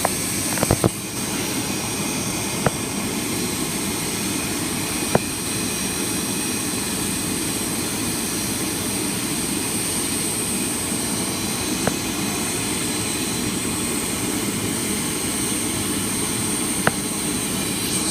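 An airplane's jet engine at Toledo airport roars in a steady, continuous rumble with an unbroken high whine on top, heard from a moderate distance for the full stretch, with a few faint clicks.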